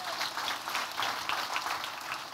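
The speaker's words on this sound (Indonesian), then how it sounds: "Yang setuju, beri tepuk tangan bagi Tuhan." Continuous applause from a church congregation during a Sunday service, a dense patter of many hands clapping at once that holds steady without pause.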